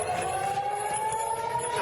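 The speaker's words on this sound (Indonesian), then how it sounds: "sirine penanda serangan Iran terus berbunyi" A steady, slowly rising air raid siren wail sounds at a distance over a noisy, rumbling background, warning of an Iranian attack in Israel.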